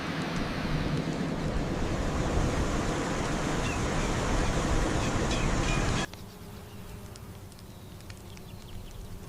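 Staubbach Falls, a waterfall in Switzerland's Lauterbrunnen valley, gives a steady, broad rushing roar that stays loud for about six seconds, then drops abruptly to a quieter, distant hiss.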